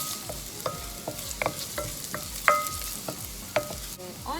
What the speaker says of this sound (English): Let's add in our garlic.